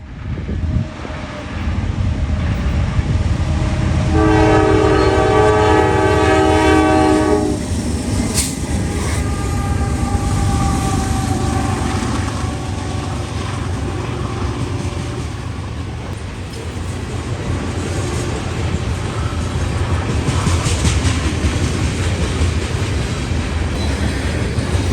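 A CSX freight train led by NS and CP locomotives rumbles past loudly and steadily, with a strong horn blast early on and continuous wheel and railcar clatter throughout.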